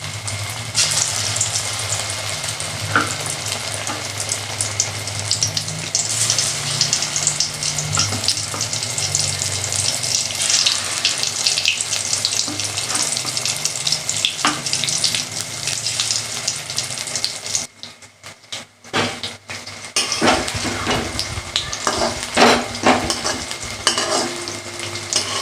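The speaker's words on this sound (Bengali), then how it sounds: "চিংড়ি মাছের পকোড়াটা করে নিচ্ছি।" Prawn pakoras frying in hot oil, a loud, continuous close-up sizzle with stirring and scraping, briefly dropping away for a moment near the end before the bubbling sizzle resumes.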